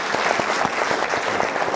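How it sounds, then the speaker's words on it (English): Brisk applause from an audience at a cultural event following a tabla and vocal performance, with individual claps standing out in an even, lively patter throughout the short burst. "Let's give them a round of applause for the performance."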